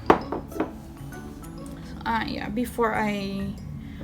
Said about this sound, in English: Now I'm going to mix all the dry ingredients